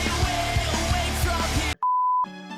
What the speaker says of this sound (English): this story gives us a break from the constant beeping